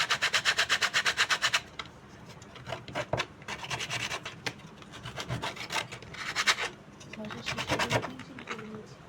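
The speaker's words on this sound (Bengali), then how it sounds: "সিরিজ পেপারে এবার ঘষবো" Sandpaper is rubbed back and forth over a length of PVC pipe to smooth it for a homemade table lamp, making rapid rhythmic rasping strokes, close and clear, with a voice talking over the scraping.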